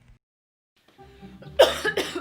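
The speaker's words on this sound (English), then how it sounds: "Did you seriously just cough in your hand?" A single close, harsh cough bursts out in two quick hacks after a brief muffled rustle in an otherwise quiet space.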